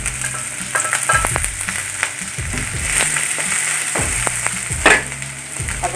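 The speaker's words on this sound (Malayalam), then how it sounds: "നമുക്കതിലേക്ക് സവാള, പച്ചമുളക്, വേപ്പിലിട്ട് നന്നായി ഒന്ന് വാട്ടാം." Onion, green chili and curry leaves sautéing in oil for potato bonda filling, a loud close sizzle with a spatula scraping the pan now and then, and no one talking.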